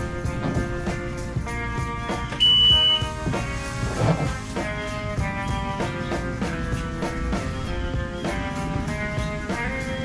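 A Mercury 250 ProXS outboard sounds a series of rhythmic, tonal beeps after the ignition key is turned on, repeating steadily over a low background hum.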